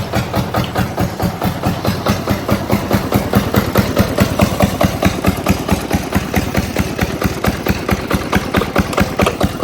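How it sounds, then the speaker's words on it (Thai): A small engine, refitted with a hand-crank starter cover in place of the original pull-start, runs steadily with a fast, even chugging pulse that holds loud and close without a clear rise in revs. "เร่งคันเร่งจ้ะ"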